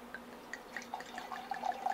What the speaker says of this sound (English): I'm just pouring myself a little glass of wine while I wait for Velia.